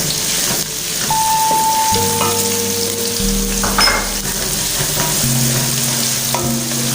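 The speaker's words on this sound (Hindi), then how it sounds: "फिर हम इनको फ्राई करते हैं।" Ginger garlic paste sizzles and fries loudly in a pan, a continuous close crackle with occasional stirring scrapes throughout.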